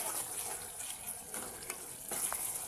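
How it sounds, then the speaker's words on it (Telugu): Ginger garlic paste with tomatoes sizzles in a pan for vegetable pulao, a steady close hiss and crackle with faint stirring scrapes, heard alone without voices. "ఇప్పుడు దీన్ని కూడా పచ్చివాసన పోయేంత వరకు వేయించుకుందాం"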